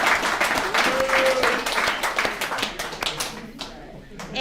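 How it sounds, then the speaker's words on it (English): An audience in a recovery-services alumni meeting claps for a speaker named Darren, a dense burst of applause that thins out toward the end, with voices talking over it. "let's give Darren another round of applause"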